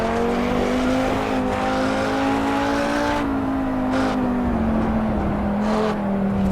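An Audi race car in the Assetto Corsa Evo sim racing game drives hard, its engine drone steady and loud, pitch rising then easing with shifts and brief tire noise throughout.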